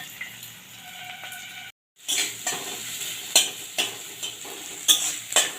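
Chopped onion, garlic and ginger frying in a pan, a soft continuous sizzle broken by a brief silence, then repeated scraping stirs and light utensil clinks against the metal.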